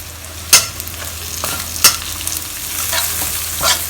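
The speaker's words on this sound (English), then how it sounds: "So I'm putting in 1 bunch full of curry leaves." Curry leaves hit hot oil in a wok for Singapore black pepper crab, sizzling and crackling steadily up close while a spatula stirs with several sharp scraping strikes.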